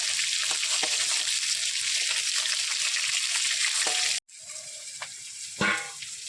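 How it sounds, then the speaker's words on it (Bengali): Fish fries in a pan on a home stove with a loud, continuous sizzle and crackle. The sizzle breaks off briefly, then resumes with a soft clatter and hiss. "এবার এই মাছগুলো ভেজে নেবো"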